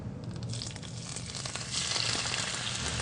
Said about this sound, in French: Là, on fait revenir nos cèpes.